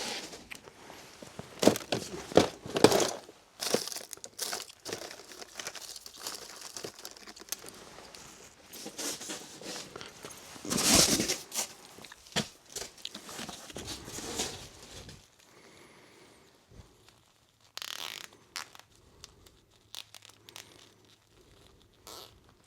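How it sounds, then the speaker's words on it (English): Small zip tie ratcheted tight on a Lectric XP4 e-bike during cable rewrapping, giving close, rapid zipper-like clicking bursts, with crinkling handling noise and quieter pauses between pulls. "grab a small zip tie."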